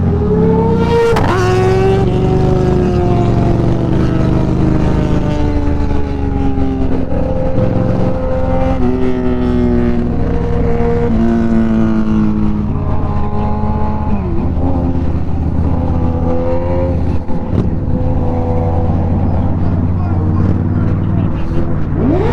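An MV Agusta motorcycle engine revs close by during a ride, with its pitch rising and falling through repeated throttle blips and a steady motor drone underneath, while people talk over it.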